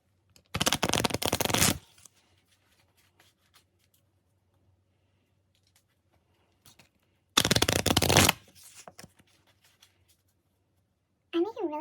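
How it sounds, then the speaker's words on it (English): Two bursts of a deck of cards being riffle-shuffled, each lasting about a second, separated by quiet; a short voice is heard at the very end. "I'm going to shuffle one more time"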